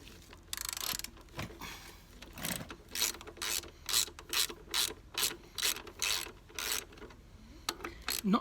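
A hand ratchet clicks in repeated quick strokes while bolting an exhaust hanger bracket onto a Honda CB500X motorcycle, close and steady in a regular rhythm with short pauses.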